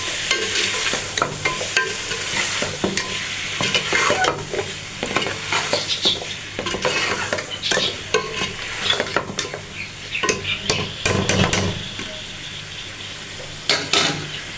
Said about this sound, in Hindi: इसको अच्छी तरह से फ्राई कर दिया।